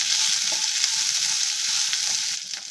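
Split peas and onions fry in a pan for hithakina bele saru, making a dense, steady close-up sizzle with faint stirring underneath.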